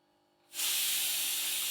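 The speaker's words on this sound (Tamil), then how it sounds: "இப்போ இந்த வெல்லத்தை மிக்ஸி ஜாரில் சேர்த்து அரைச்சிட்டு வந்துக்கலாங்க." A mixer grinder jar grinds jaggery into a fine powder, bursting into a loud, steady whirring roar about half a second in after near silence and holding at full strength to the end.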